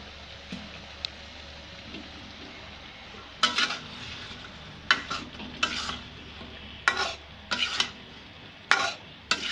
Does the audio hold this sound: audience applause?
no